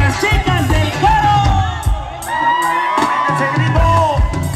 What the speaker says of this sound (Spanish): A ver el grito de las chicas del coro.